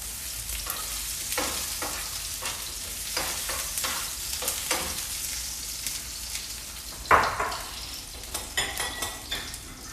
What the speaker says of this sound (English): now I'm gonna start searing off some of this summer squash